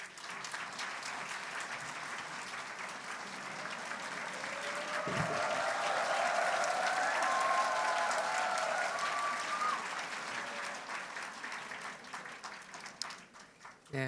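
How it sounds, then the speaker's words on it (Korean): Sustained audience applause, fairly distant and soft, swelling slightly in the middle before tapering off, with some voices underneath. "우리 나오실 때 큰 박수로 맞아주시면 감사하겠습니다"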